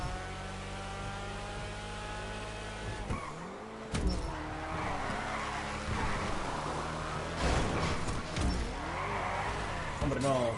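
A car in GTA Online roars with a droning, airplane-like engine tone that rises and falls, with tire skids and squeals mixed in, while people talk over the game sound.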